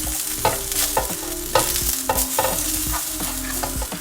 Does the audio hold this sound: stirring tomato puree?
yes